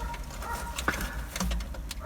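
Pigeons in a loft, including tumbler and homing birds, give soft cooing calls over a busy background of rustling and shuffling movement, a few brief calls standing out at moderate distance.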